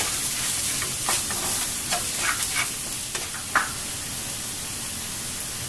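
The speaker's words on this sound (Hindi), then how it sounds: "ये कच्चा मसाला को अच्छे से भूनना पड़ेगा, ये तेल में पकाना मसाला को" Raw masala fries in hot oil for hotel-style egg masala, a bright, steady sizzle with a cluster of stirring scrapes early on, after which the sizzle hisses on alone.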